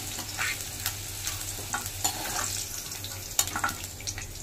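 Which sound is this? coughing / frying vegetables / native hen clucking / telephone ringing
frying vegetables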